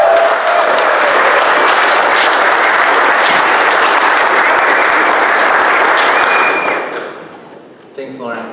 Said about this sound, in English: can we have a round of applause for Pleasure Boat Studio and Lauren?